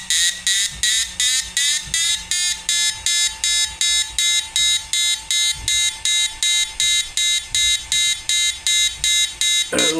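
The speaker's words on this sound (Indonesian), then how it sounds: "Ini karena sudah saya pasang buzzer jadi suaranya kencang" An electronic buzzer sounds in a fast, steady series of short, loud pulses that repeat without a break throughout.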